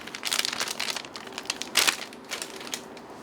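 The plastic packaging around a head of broccoli crinkles and rustles in a kitchen, with irregular crackling bursts and one sharper crunch midway, close and moderately loud, with no voices.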